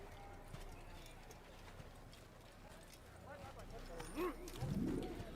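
Horse hooves clip-clop steadily at a walk in Assassin's Creed, soft and regular beneath ambient birdsong and pigeon cooing, with a voice talking over them.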